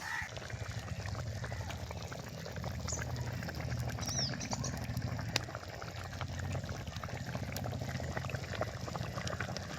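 A pot of fish kuzhambu curry, with whole fish added, simmers steadily at a low, continuous bubbling boil, faint and close, with small scattered pops and clicks on top.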